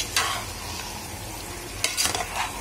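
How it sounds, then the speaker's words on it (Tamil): Marinated chicken pieces drop into a sizzling onion-tomato masala for a home-style chicken gravy, giving a steady frying hiss with two louder bursts of sizzle as the meat lands, close and with no voices. "சிக்கன் எடுத்து இதில் போட்டுட்டேன்."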